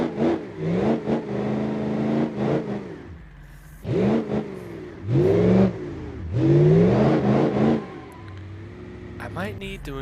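A limousine engine in BeamNG.drive revs up in several separate rising pulls, each climbing in pitch before dropping back to idle, with someone talking between the revs.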